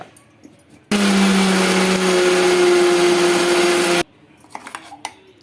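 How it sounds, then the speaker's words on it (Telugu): An electric mixer grinder whirs loudly and steadily for about three seconds, grinding dry red chilies, garlic, cumin and salt without water, then stops; faint clinks and handling noises follow. "ఇందులోకి వాటర్ ఏమి వేయకూడదు ఇలానే గ్రైండ్ చేసుకోవాలి"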